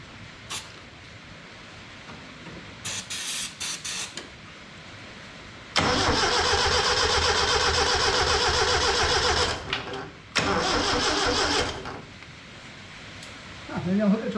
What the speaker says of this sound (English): I can hook up power, give it a crank, and see if she starts.